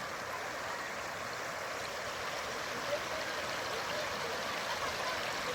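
Steady rushing floodwater flows continuously over a road, about two feet deep, a broad even gush with faint gurgling, fairly close and without voices.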